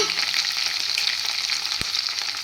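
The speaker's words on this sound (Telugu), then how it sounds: "తాలింపు దోరగా వేగిన తర్వాత ముందుగా పచ్చిమిరపకాయలు వేసుకోవాలి" Hot oil sizzles and crackles steadily as green chillies fry, a bright continuous hiss with a single soft knock partway through.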